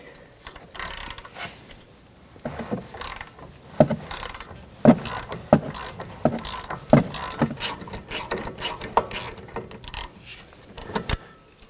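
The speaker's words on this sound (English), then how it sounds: "let's see if we can break the nut free" A wrench works loose the strut nut on a 2011-2018 Volvo S60 during a front strut and spring replacement, giving a series of sharp metallic clicks and ratcheting bursts in irregular rhythm, close up and without talk.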